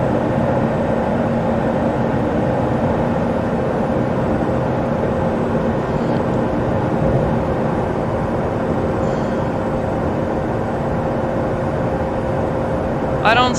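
An Embraer E175 airliner on approach with gear down and flaps full in Microsoft Flight Simulator, a steady loud engine and airflow drone with a constant tonal hum, unbroken for the whole span.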